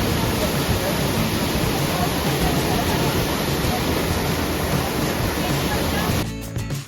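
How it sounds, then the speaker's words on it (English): Heavy water flow roars at Gupta Bhimashankar, a dense, steady rushing wash that is loud and continuous, ending in a brief clatter of handling noise. "We actually could not see the Shivling because the water flow was very heavy."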